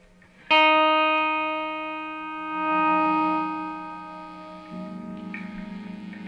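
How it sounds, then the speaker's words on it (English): A single electric guitar chord rings out through a Monoprice 611600 distortion mini pedal at full distortion, sustaining and slowly fading, with a second harsher chord entering near the end. "Let's see what full distortion sounds like."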